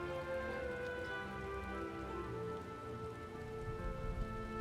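Rain falls steadily in a desert area of the game Final Fantasy XIV, heard as an even wash of rain sound over a sustained musical drone, with no voices.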